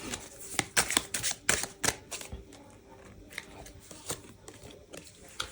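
Tarot cards shuffled and drawn for a reading, a run of crisp riffling snaps and flicks that comes in bursts, loud at first and then lighter and sparser.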